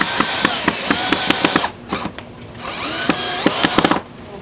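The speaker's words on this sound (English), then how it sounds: "Don't drill!" Bursts of a power drill whirring in short, irregular pulses, close by, with a pause midway before the drilling starts up again.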